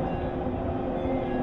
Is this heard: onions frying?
no